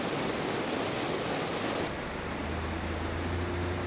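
Water pours from a waterfall springing out of a canyon wall at an oasis on the Little Colorado River, a dense continuous rush that drops to a softer, duller roar partway through.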